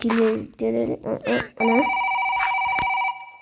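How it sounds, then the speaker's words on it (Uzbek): An electronic telephone ring in Minecraft sounds as a steady tone for about a second and a half, following a short stretch of speech. "Qo'shni telefonni jilyapti."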